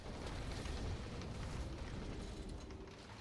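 A Gatling gun in a video game keeps up a dense, continuous roar of rapid fire, loud and unbroken throughout, with a low rumbling weight beneath it.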